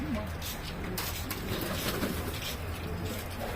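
Tumbler pigeons coo softly in a low, rolling murmur beneath a busy urban background, with people talking nearby.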